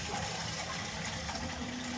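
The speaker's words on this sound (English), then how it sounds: "And we'll let that fill up and give it a load of flushes." A toilet flushing after a plumbing repair, a steady rushing gush of water filling and draining throughout, fairly quiet and continuous with no voices.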